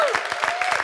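Audience applause at a millionaires summit event, steady clapping from a crowd filling the short moment with dense, even texture at moderate level.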